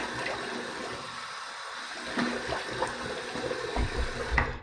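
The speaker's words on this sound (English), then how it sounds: "I'm going to drain the sink a little bit." Water drains out of a bathroom sink after shaving, a steady close gurgling rush with small splashes and nobody speaking.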